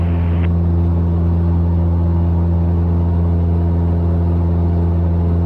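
Steady, loud drone of a Cessna 172 piston engine climbing out, a constant low harmonic hum with propeller buzz running unbroken throughout.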